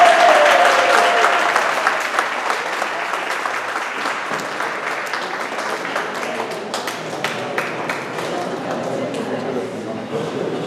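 Audience applause at a deacons appreciation night, a dense, sustained wash of many hands clapping that starts loud and settles to a steady, slightly softer roar through to the end.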